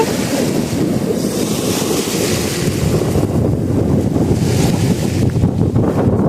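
Strong wind buffets the microphone outdoors while rockhounding for raspberry quartz, a steady loud rumbling roar that fills the whole stretch with no break, and no voices heard.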